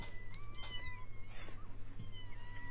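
A kitten meows a few times from a video playing in the background, the high cries faint and thin over a steady low hum.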